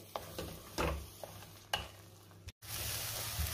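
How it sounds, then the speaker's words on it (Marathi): Ground masala paste fries in oil for a mutton rassa, giving a soft, steady sizzle. A few distinct stirring scrapes sound through it, then a brief dropout, and the sizzle comes back louder and fuller. "वाटण मी चांगलं तेल सुटेपर्यंत परतून घेणार आहे।"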